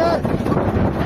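A free-service passenger ferry boat pulls in to the shore near Vahal on a river crossing. Steady wind buffeting and a low engine rumble carry throughout, with a faint murmur of people in the background.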